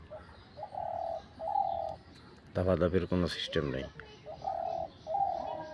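A tame, hand-raised decoy bird, likely a dove, gives repeated soft cooing calls in short phrases, with someone speaking in the middle between the calls.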